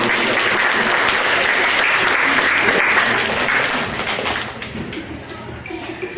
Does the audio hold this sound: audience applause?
yes